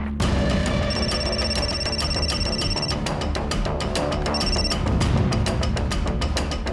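A telephone rings on an outgoing call, the ringback coming as repeated electronic trills that start and stop in a steady pattern, fairly loud and without talk over it.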